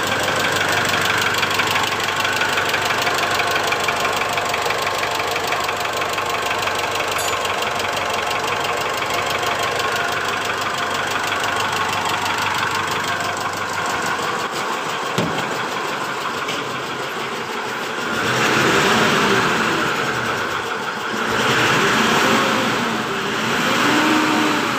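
A Mitsubishi Strada Triton GLS diesel engine idles roughly with a steady, rapid tak-tak-tak knock and a faint squeak. It is heard close and continuous with no voices, and the tone shifts slightly near the end.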